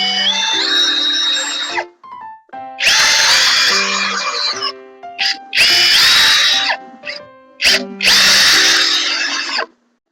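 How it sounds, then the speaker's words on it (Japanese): Power drill driving self-drilling screws while fitting metal brackets for a DIY car dashboard folding tray: several loud whining bursts of a few seconds each, rising motor pitch, separated by short pauses. "これはドリルネジでやりましょうね。"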